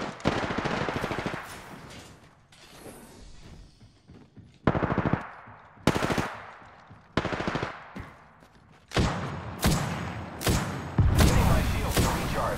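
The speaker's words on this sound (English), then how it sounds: "Opening fire on the enemy. I am taking fire, friends." Automatic weapon fire in Apex Legends crackles in repeated rapid bursts, loud and close, with shorter volleys and thumps following through the fight.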